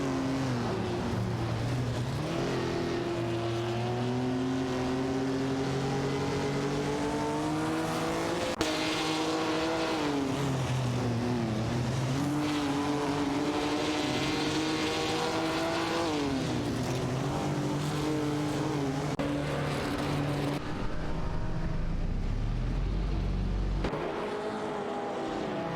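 Race cars in a racing video game scream through the gears, their high engine whine rising and falling steadily as they accelerate out of corners, loud and continuous with no voices.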